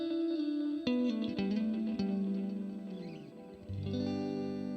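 Electric guitar, a 75th Anniversary Evertune Strat, strummed chords and bends drenched in reverb and echo, washy sustained tails blending between notes, loud and close without talking.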